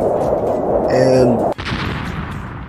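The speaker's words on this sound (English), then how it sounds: "Man, that was one heck of an explosion." A huge explosion goes off in a video game after a nuke wipes out an entire island. A sharp blast cuts in partway through and trails into a rumbling roar, with a voice talking before it.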